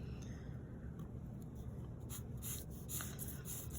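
Pencil drawing perspective lines on paper for a two-point perspective box, heard as a steady close scratchy graphite stroke running throughout with soft rubbing texture and no voices.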